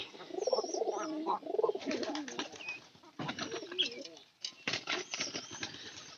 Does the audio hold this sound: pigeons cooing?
yes